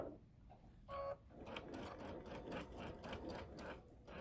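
A sewing machine stitches through several quilt layers in rapid, even bursts of mechanical whirring, with a short pause midway before the steady stitching picks up again, close and moderately quiet.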